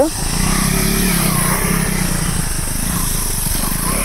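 A new KTM Adventure 390 motorcycle rides on a track, its engine giving a steady, loud droning hum close by throughout, holding an even pitch with light buzzing texture.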